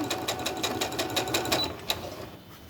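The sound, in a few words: sewing machine stitching quilt fabric pieces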